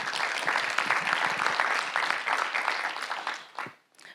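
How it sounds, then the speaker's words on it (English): A roomful of people applaud at a community roundtable, brisk, dense clapping that holds steady for several seconds before tapering off abruptly, with a final scattered clap at the end. "give them a big round of applause"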